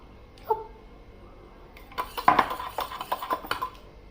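A spoon mixes honey in a cup or bowl, giving a quiet early tap and then a busy run of close clinks and scrapes against the container.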